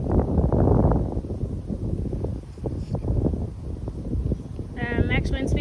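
Strong thunderstorm wind blusters steadily into the microphone outdoors, rising and falling in gusts, with a person speaking briefly near the end.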